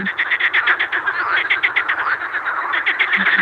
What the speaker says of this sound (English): we're just getting those like little squeaky frogs